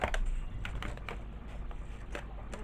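Small craft scissors snipping, a handful of sharp, close clicks spaced irregularly over a steady low background hum, with no talking.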